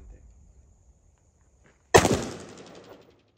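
A single sharp gunshot cracks at a firing range in Baguio after a near-silent pause, followed by a short decaying echo, with faint voices before it.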